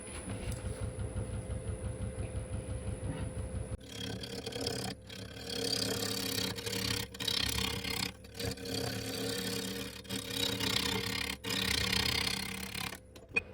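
A wood lathe turns a root ball, first a steady low machine hum, then rough scraping and chattering bursts as the tool cuts into the uneven wood, close and fairly loud with short pauses.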